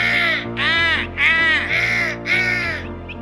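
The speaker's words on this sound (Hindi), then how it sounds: "लेकिन वहां सारे कौवों ने काव काव करना शुरू किया।" Crows caw five times in a rhythmic series, loud and harsh, over a steady musical background.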